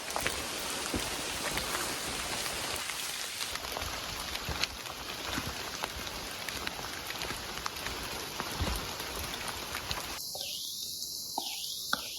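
Drizzle in a forest, with big fat raindrops falling through the canopy and pattering onto a jacket hood close by, steady and dense, with a soft insect-like whine high above and no talk.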